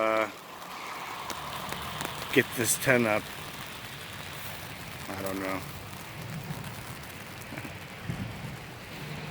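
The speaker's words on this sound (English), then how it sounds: "that rain has slowed down enough" Steady rain patters in the background while a person talks briefly over it outdoors at a camp.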